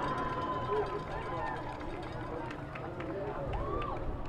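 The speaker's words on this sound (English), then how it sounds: "How about a big round of applause for those junior varsity cheerleaders?" Spectators at a Friday night high school football game between Fort Worth Christian and Dallas Christian applaud junior varsity cheerleaders, a steady wash of clapping and crowd noise with scattered voices and a few whistles.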